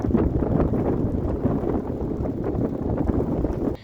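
Strong wind roars and buffets the microphone in a steady, loud low rumble with gusty surges throughout, on the Baja Peninsula, no voices heard.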